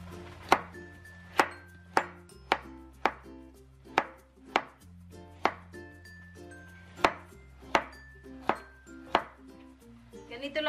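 Carrots are chopped for pancit on a cutting board, each knife stroke landing as a sharp knock in a slow, fairly even rhythm of about a dozen cuts, close and alone without talk.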